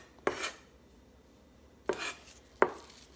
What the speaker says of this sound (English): Thyme you can just give a quick little chop like this.